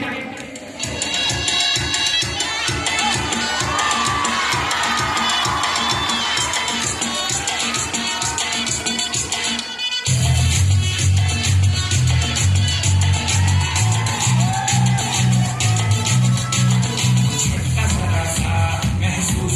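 Audience at a school Independence Day event on 15 August clapping and cheering, a dense crowd roar with rhythmic clapping that grows louder and fuller in the second half, amid a noisy hall with voices.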